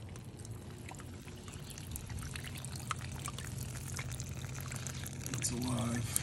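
Water trickles and pours steadily from a small garden fountain into a pond, a faint continuous splashing and dribbling recorded up close, with a voice speaking briefly over it near the end.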